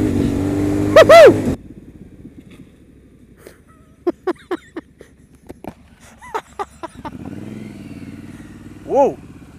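A Triumph Scrambler motorcycle with a Vance and Hines exhaust idles with a low rumble and blips its throttle in short, loud revs, with a brief voice near the start and a swelling rev at the end.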